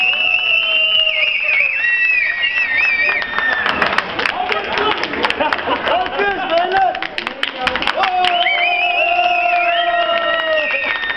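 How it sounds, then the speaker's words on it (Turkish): Wedding guests at a Turkish wedding clap together in a burst of loud, rapid applause and cheering, framed before and after by someone talking over a loudspeaker. "güçlü bir alkış"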